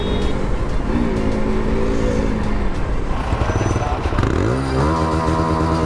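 A KTM RC390 motorcycle engine revs hard and loud, its pitch climbing in a rising sweep near the end over steady road and wind roar.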